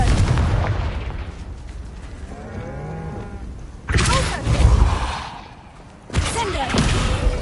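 A Confringo spell blast erupts in a video game, heavy booming explosion bursts landing one after another over rumbling game sound, loud and near, with a character's voice briefly heard.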